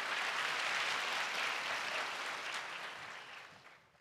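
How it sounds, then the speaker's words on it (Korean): Audience applause at a public natural-science lecture in a hall, a dense steady wash of many hands clapping that gradually thins and fades out toward the end. "큰 박수 부탁드릴게요"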